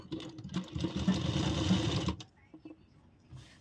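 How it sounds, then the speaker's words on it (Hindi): A sewing machine stitches kurti fabric in a close, fast whirring run of about two seconds, then stops, leaving quiet with a faint rustle. "और यहाँ से हम सिलाई शुरू कर देंगे।"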